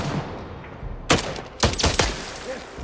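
Gunfire in a film as soldiers shoot at attacking terrorists: several sharp, loud shots in an uneven burst over a noisy background rumble.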